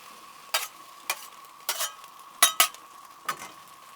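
Apples and cinnamon roll pieces with apple pie filling sizzling on a Blackstone griddle, with a soft steady fry underneath and about six sharp scraping spatula strokes as the pieces are moved around. No one speaks.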